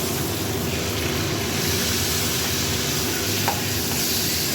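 Pointed gourd (potol) frying in hot oil, a steady, even sizzle that holds close and level throughout with no voices.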